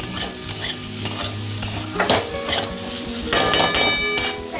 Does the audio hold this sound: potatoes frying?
yes